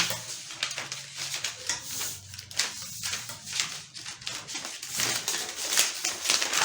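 Scissors cut through paper along a drafted sleeve pattern, producing a steady run of close, crisp snipping and rustling with no talk.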